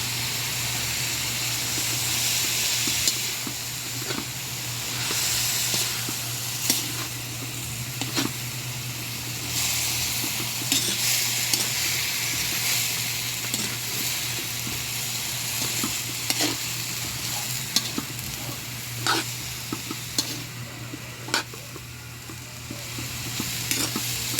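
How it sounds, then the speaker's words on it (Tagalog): Dalagang bukid fish for sarsiado sizzles steadily in a pan while a utensil stirs it, with scattered scraping clicks over a constant low hum, close and continuous. "Haluin natin."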